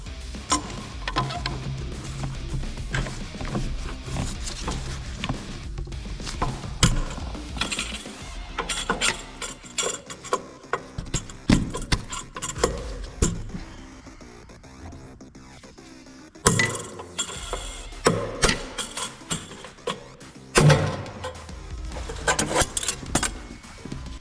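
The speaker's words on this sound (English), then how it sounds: "you just need to hit them just a little bit with the pry bar, and they usually just pop off" Prying V-band clamps off the exhaust downpipe of a 7.3L Powerstroke OBS Ford F-350 with a pry bar: irregular metallic clanks, scrapes and sharp knocks, bursts separated by short pauses, close by with no talking.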